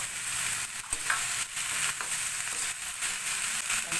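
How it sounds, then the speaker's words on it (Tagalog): A spoon stirs stewed string beans with shrimp in a sizzling pan, giving soft scraping strokes at a regular pace over a constant frying hiss. "Halo-haloin lang natin."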